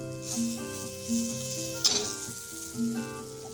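Curry leaves, mustard seeds and onion sizzle in hot oil, a soft, steady hiss under sustained musical tones, with one sharper crackle partway through.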